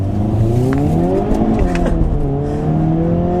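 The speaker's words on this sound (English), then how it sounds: "Lots of wheel spin. And it pulls really nicely." A 2022 Hyundai Kona N in N mode accelerates hard down a straight road, its engine note climbing steadily and loud throughout, with wheel spin and a sustained close, continuous roar without talk.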